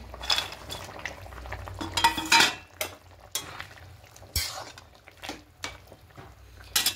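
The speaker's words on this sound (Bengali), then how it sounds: "এবার এখানে দিয়ে দেব বড়ি, বেগুন আর করলা ভাজাটা" Fried bori, brinjal and bitter gourd tumble into a simmering fish broth for shukto, with scattered spoon clinks against the pot, soft wet plops and a low bubbling underneath.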